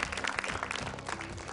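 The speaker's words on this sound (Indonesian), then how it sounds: "boleh tepuk tangan yang meriah untuk Hasna dari Garut, Jawa Barat." A studio audience applauds at a televised Qur'an recitation competition, a brief, fairly faint burst of crowd clapping with some murmuring underneath.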